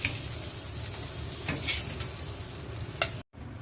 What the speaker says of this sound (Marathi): मच्छी फ्राय झालेली आहे कमी तेलामध्ये